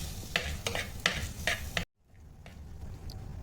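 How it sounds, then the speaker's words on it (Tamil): Tomatoes and onions being stirred and sautéed in a pan for a drumstick stir-fry, with a steady sizzle and about five rhythmic scraping strokes, then a brief cut to a quieter, softer sizzle. "வெங்காயம் நல்லா வதங்கின உடனே வெங்காயத்தோட பக்கத்து வீட்டுக்காரு தக்காளியை உள்ளே போட்டு நல்லா வதக்கிடுவோம்."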